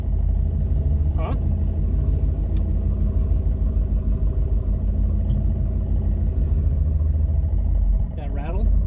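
A turbocharged pickup truck's diesel engine idles with a steady low rumble, its fuel system and new injectors adding a faint ticking rattle throughout, with brief voices breaking in near the start and end.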